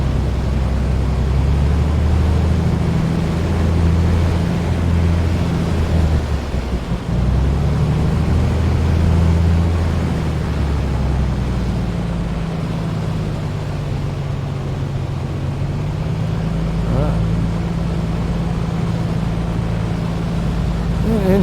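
Aircraft engine in a VR flight simulator game with motion rig and haptic seat, steady droning low rumble with a strong tonal hum that dips and shifts pitch slightly partway through, continuous and loud with no talking.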